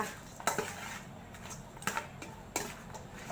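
Pork bones and fish being dry-stirred in a pan for a Thai Isan kaeng om curry, with a few sharp metallic clinks and scrapes of utensil on pan spaced irregularly over a quiet background.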